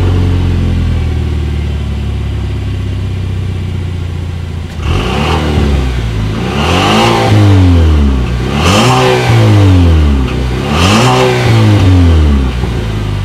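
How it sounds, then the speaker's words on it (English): A 2020 Chevrolet Equinox with the 2.0 liter engine and dual exhaust cranks and starts after a quiet idle, then revs loudly three times in quick rising-and-falling bursts up close. "let's go ahead and start it up, and here is that exhaust clip"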